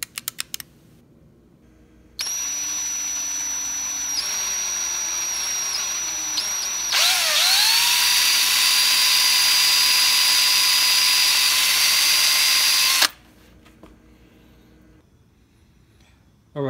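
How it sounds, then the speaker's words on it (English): A drill bores out a roll pin from a Honda ignition lock held in a vise, a steady high whine running about ten seconds that rises in pitch and load partway through, then stops abruptly. "we're gonna drill that roll pin out"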